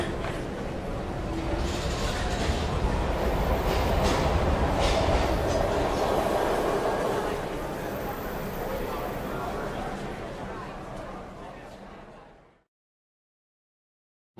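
A passenger train from the video game Heavy Rain rumbles steadily and loudly for about twelve seconds, a dense continuous rolling roar with voices mixed in, then cuts abruptly to silence.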